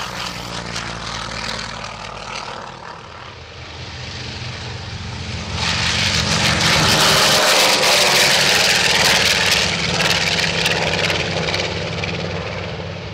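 Propeller aircraft taxiing and taking off at the La Ferté-Alais airshow: a droning engine passes nearby, then swells into a loud, sustained full-power roar as a plane takes off.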